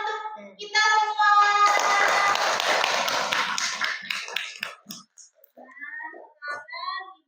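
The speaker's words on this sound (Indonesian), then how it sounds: "kasih tepuk tangan untuk kita semua" A classroom of students clapping during a religious education lesson, a short burst of claps after a stretch of speech, followed by scattered taps and murmured voices.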